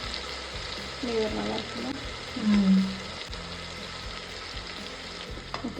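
Chicken frying in a pan with turmeric and chilli powder, a steady sizzle with stirring scrapes running throughout, while a person talks over it.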